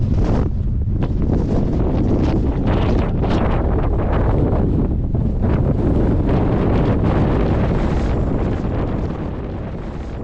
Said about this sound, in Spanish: Hay un viento terrible, hay que venir bien abrigado.